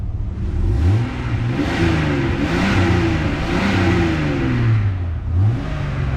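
Jeep WJ engine revving repeatedly, each throttle blip rising and falling in pitch several times in a row, close and loud with no talk.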